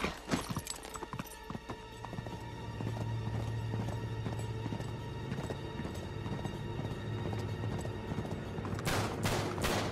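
Horse hooves clip-clop through a desert battle in Uncharted 3, a steady galloping patter running under bursts of gunfire and game sound effects, with a louder clatter near the end.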